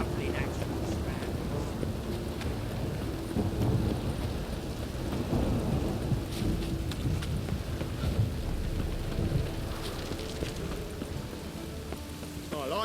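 Steady rain with rolling thunder rumbling in the background in The Witcher 3 near Novigrad, continuous and fairly loud, with a voice or two briefly audible.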